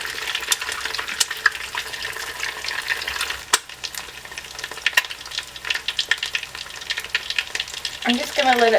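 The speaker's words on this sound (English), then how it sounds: "we're going to crack our egg into the hot oil" An egg frying in hot oil in a small pan gives off a continuous close sizzle with crackling pops. A brief utensil scrape sounds near the end.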